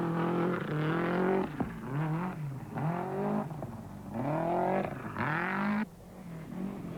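A rally car drives a gravel stage of the 1991 Rally New Zealand, its engine revving hard through repeated rising and falling gear changes, loud and close, with a brief drop as it lifts off near the end.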